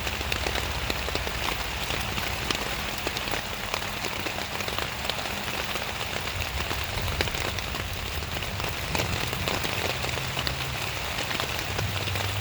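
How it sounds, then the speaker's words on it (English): Light drizzle pattering steadily on surfaces around a camp in the woods, a dense, even crackle of small drops that runs unbroken from start to finish with no voices. "Still drizzling a little bit."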